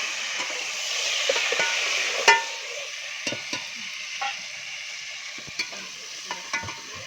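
Tomatoes going into browned onions in a pot, frying with a steady sizzle and scattered stirring clicks and scrapes, close up and without speech.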